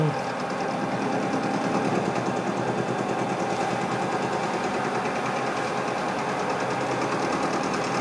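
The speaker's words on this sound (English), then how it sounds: "Cutter is still running the same 500 RPM, 3/4 inch cutter, high speed steel" A 3/4 inch high-speed steel milling cutter turning at 500 RPM on a rotary table cuts steel locomotive tender brake blocks, a loud, steady, close machine drone with a fine chattering rattle that never lets up.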